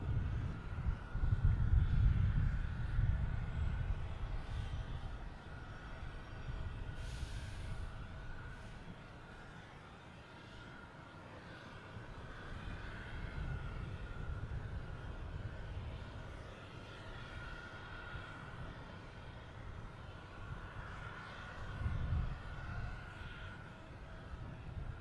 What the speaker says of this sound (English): we have a JetBlue coming in from Fort Myers, an A321